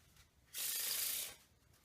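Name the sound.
deck of playing cards being shuffled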